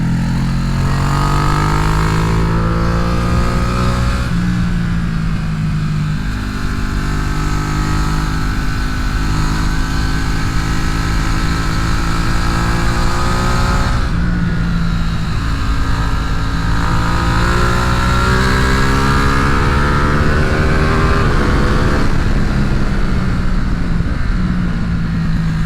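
Ducati Streetfighter naked motorcycle ridden hard on a track, its engine loud and close, rising and falling through repeated revving runs and gear changes over about twenty-five seconds, with no voices.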